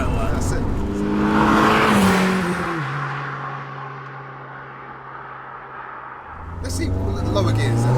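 A turbo-swapped 300bhp Vauxhall Astra GTE, formerly a track car, pulls hard with a rising engine note, then settles into a steady drone before revving up again, heard from inside the car under occupants' talk.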